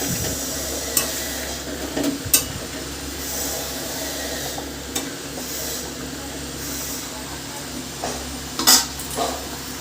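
Fish curry of singhi catfish with egg being stirred in a frying pan, a steady close sizzle broken by occasional scraping and clinks of the utensil against the pan.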